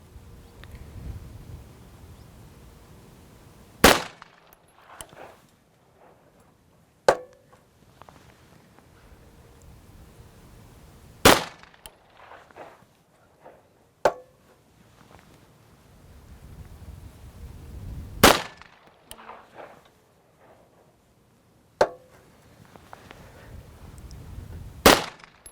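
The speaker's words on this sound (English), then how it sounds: "Let's go ahead and shoot a group" Five sharp, loud shots from a Watchtower Apache 9mm pistol firing handloaded ammunition ring out at uneven intervals of several seconds, each a crisp crack with a short echo over faint wind noise.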